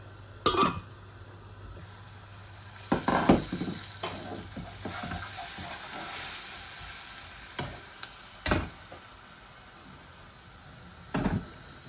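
Satkora citrus and potatoes fry in a pan, giving a quiet, low sizzle broken by occasional scraping and clinking of a stirring utensil.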